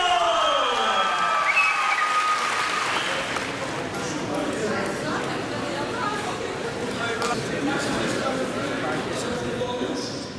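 A crowd at a WFC-UK fight night in Loughborough applauds and cheers for the winning fighter after a guillotine submission, a steady wash of clapping and shouts filling the hall, with an announcer's voice over it at first.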